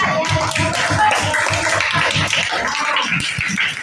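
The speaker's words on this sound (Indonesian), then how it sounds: "anak tepuk tangan buat anak-anak hebat semuanya" Schoolchildren clap their hands in a classroom, a quick burst of close, bright claps with a loosely rhythmic pattern that tapers off near the end.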